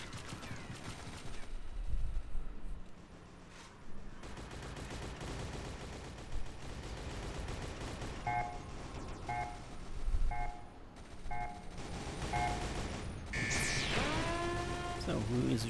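Gunfire in the video game SGDZ, with bursts of shots and rapid automatic fire sounding through the game's background noise. There are no spoken words in the clip.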